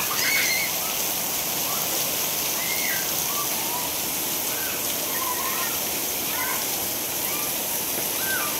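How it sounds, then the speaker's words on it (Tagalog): Dense, steady hiss of heavy afternoon rain pouring down without letup during a thunderstorm, with faint bird chirps scattered through it. "Malakas ang ulan."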